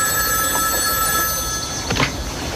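A telephone rings as a short electronic trill over faint background hiss, fairly close, with no talk.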